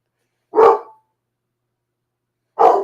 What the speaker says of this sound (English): I'm gonna let you guys listen to my dog